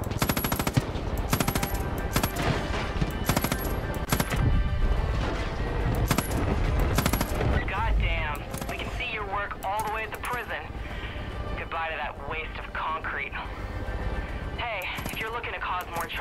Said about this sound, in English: Right, who's shooting me?